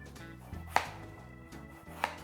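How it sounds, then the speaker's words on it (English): A knife slices potatoes very thin on a cutting board, giving two sharp, close knocks about a second apart over quiet room sound. "Okay, so I'm going to slice the potatoes very thin."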